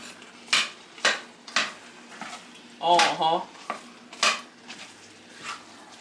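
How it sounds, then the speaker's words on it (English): Ground meat browns in a pot for taco soup while a utensil stirs it. Spaced scraping clanks against the pot sit over a faint sizzle, and a voice breaks in briefly midway. "you stir that around and let it brown"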